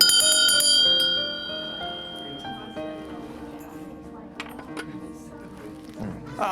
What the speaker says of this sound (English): even a bell for service.